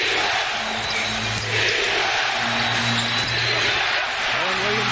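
Basketball arena crowd in a 2007 NBA playoff game, Jazz against Rockets, chanting steadily for defense in a loud sustained roar while a commentator talks over it.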